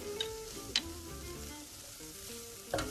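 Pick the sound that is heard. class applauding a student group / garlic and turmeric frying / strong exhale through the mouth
garlic and turmeric frying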